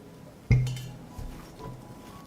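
Glass canning jars clink against each other as they are set into a cloth-lined pot for pasteurizing fruit preserves, one sharp close clink followed by a softer knock.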